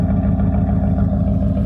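A second-generation Ram truck engine with a bad exhaust leak runs close by with a steady, low, rough rumble and a rapid pulsing throb, and no talk is heard.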